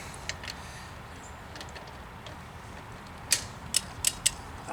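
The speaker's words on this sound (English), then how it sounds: "we're gonna keep going until you hear a click" A torque wrench ratchets while tightening a car's wheel lug nuts during a tire rotation, faint mechanical creaking followed by a few sharper clicks near the end, close and without talk.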